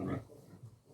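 A pig grunts and oinks up close at the start, a loud low burst followed by a couple of softer grunts, with a faint voice murmuring in the background.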